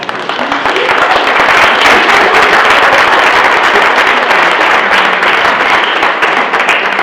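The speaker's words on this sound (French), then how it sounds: "Vous pouvez m'applaudir aussi." Sustained applause from a gospel concert audience, dense and loud, filling the space evenly from start to finish with no speech over it.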